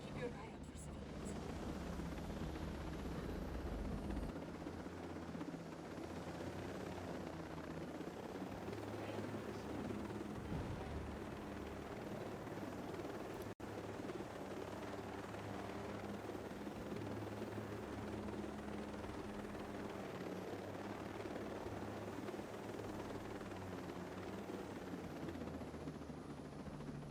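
A helicopter in the video game Ghost Recon Breakpoint drones as a low, steady rotor rumble for the whole stretch, moderately loud and unbroken.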